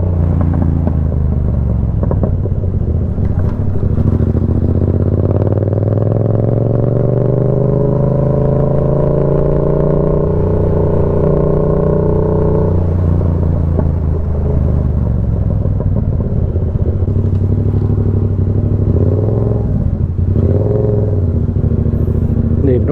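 A Yamaha MT-07 motorcycle with its CP2 twin engine being ridden, a loud continuous engine drone that climbs and falls in pitch as the rider accelerates and eases off.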